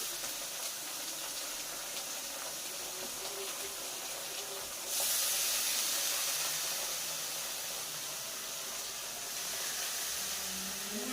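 Washed grated radish dropped into a hot pan sets off a steady broadband hiss, rising to a louder sizzle midway before settling back, close and continuous with no talk.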